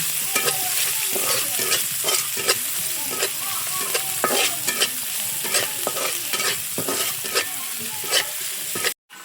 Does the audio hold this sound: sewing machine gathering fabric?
no